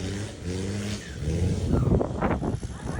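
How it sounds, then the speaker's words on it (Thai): Off-road vehicle engine at a charity off-road competition in Thap Sakae, revving and straining in surges that build louder toward the middle, with a commentator talking over the start. "ถึงเวลาที่ต้องรับพละกำลังเครื่องยนต์กันแล้วครับตรงนี้"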